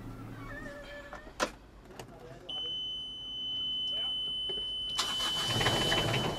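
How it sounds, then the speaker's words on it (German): An engine cranks and catches partway through, settling into a steady mechanical hum with a thin whine, then swelling into a louder, rougher roar near the end, with voices faintly present. "Der Christian kontrolliert den Motor."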